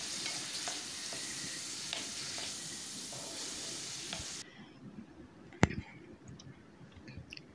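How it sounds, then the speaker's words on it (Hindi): Vegetables frying in a pan with vinegar, salt and black pepper, a steady close sizzle that drops to a softer crackle partway through, with a sharp clink of a utensil near the end. "तो बस इनको थोड़ा सा फ्राई करके तो उतार लेंगे"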